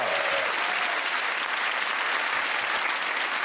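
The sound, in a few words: studio audience applause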